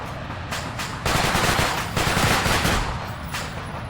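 Sustained automatic machine gun fire in the video game Arma 3, a German Iron Front World War II scenario, loud bursts rattling continuously over a few seconds with no talking.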